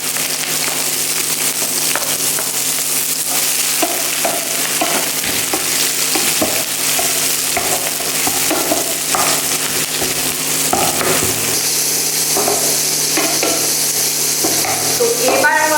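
Green chilli, chopped garlic and tomato stir-fried in a pan, a steady loud sizzle with repeated scraping stirs running throughout, no talking.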